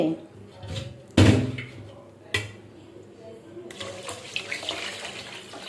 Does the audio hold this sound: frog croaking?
no